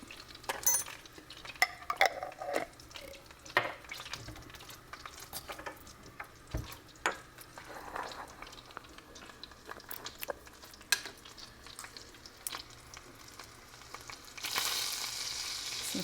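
Garlic sizzles quietly in unsalted butter in a pan, a soft crackling fry with intermittent clinks and scrapes of stirring utensils.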